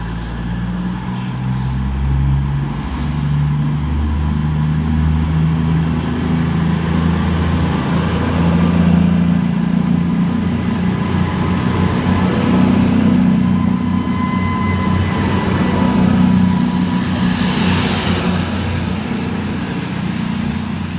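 A CrossCountry class 220 Voyager diesel train, unit 220007, bound for Bristol Temple Meads at Cheltenham Spa station, gives off a steady low engine drone with a rising rumble as it moves through, loud and continuous with no talk.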